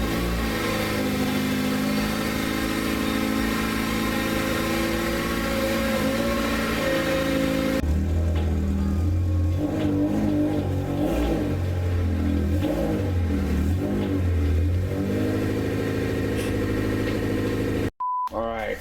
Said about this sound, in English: So, car's backed in.